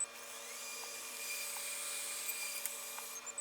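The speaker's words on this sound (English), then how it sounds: "then we're going to start the blades" The blades of a Mammotion Luba 3 AWD robot mower spin up into a steady, high whine with a faint tonal hum, quiet and continuous with a few small clicks.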